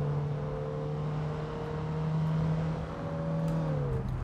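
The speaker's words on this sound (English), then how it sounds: "Listen to that downshift. It's amazing." A car engine in the racing game Assetto Corsa, on a countryside road of the Union Island map, drones at steady revs up close before its pitch drops sharply near the end.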